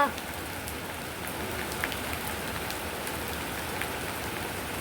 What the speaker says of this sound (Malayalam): നല്ല മഴയുണ്ടല്ലേ